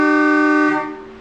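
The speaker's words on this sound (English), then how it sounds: "I love the horn in this car. It wakes people up." A 1966 Ford Galaxie 500 convertible's horn blares loud and close in a single long, hefty, train-like honk, holding steady before cutting off into a short fading tail.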